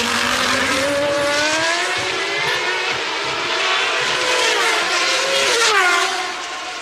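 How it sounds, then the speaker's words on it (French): 1993 Formula 1 cars, a Benetton chasing a McLaren at the Monaco Grand Prix, scream past with high whining engines rising and falling through gear changes, loud and close, with no talking. "Michael Schumacher remonte sur Ayrton Senna et compte bien lui chipper la deuxième position."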